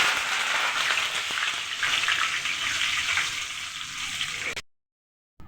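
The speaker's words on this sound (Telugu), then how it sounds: "కరివేపాకు కూడా వేయించుకుంటున్నాను." Curry leaves sizzling in hot oil for karam boondi, a steady bright crackling hiss that runs close and loud, then cuts off abruptly near the end.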